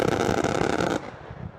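Gunfire in a forest during a U.S. Army special forces firefight, a loud dense burst of rapid shots that cuts off abruptly into a fading echo.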